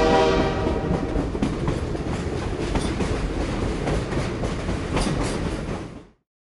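A cog railway train grinds steadily up a steep mountain grade of about 16 to 25 percent, its loud, continuous rumble and rhythmic clatter holding close for several seconds before cutting off abruptly.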